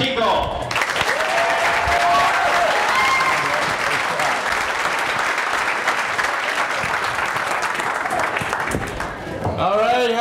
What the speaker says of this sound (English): Put your hands together for Mark Kikel.